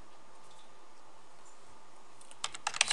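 Typing on a computer keyboard, a few quick, close key clicks that start near the end after a quiet hum.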